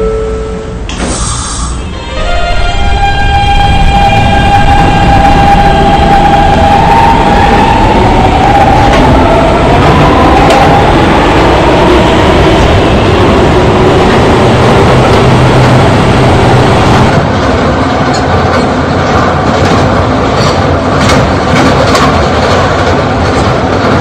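A subway K train pulls away and runs along the track, a loud continuous rumble with a rising whine from the motors that settles into steady rolling noise heard from inside the car.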